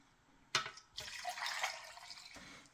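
Water from a tap pours for about two seconds into a pot of rib stock with yellow onion, garlic and whole peppercorns, a steady close splashing stream after a brief clunk, with no talk over it.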